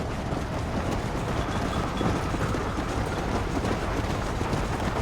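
A train rolls along steadily in the Western video game Red Dead Redemption, its dense rumble and rattle holding an even level throughout with no talk over it.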